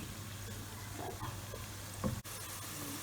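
Chopped onions frying in a pan for stuffed keema karela, a steady low sizzle running throughout, with a brief stir or clink near the middle.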